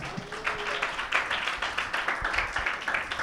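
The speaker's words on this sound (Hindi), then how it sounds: "यीशु मसीह के लिए तालियां बजाएं।" A church congregation claps for Jesus during a service, quick uneven hand claps forming light applause at a fairly low level, without voices over it.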